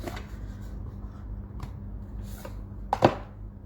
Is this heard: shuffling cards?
yes